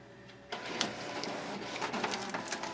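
A printer feeds a fabric-covered canvas through once, giving a steady mechanical whirring and rattling hum with small clicks, close and moderately loud.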